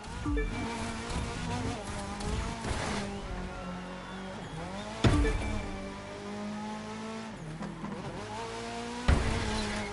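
A car in The Crew 2 drives along with a buzzing, revving engine whose pitch rises and falls through gear shifts, close and steady, with sharper bursts around five and nine seconds.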